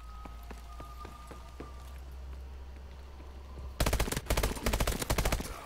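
Rapid automatic gunfire bursts in Call of Duty: Advanced Warfare, loud dense volleys starting abruptly after a quiet stretch of faint ambient game noise and distant pops.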